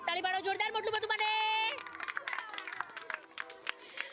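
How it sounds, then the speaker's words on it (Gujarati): An audience at a primary school fun fair in Kanodar claps for Motu Patlu cartoon characters, with scattered, lively clapping breaking out after a loud announcing voice and continuing under chatter. "તાળી પાડો જોરદાર મોટું પતલું માટે."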